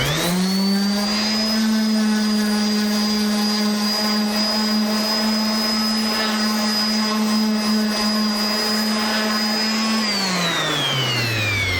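A random orbital sander with 120 grit runs against a carved solid maple sign, a loud steady whine that holds one pitch for about ten seconds, then winds down as it slows.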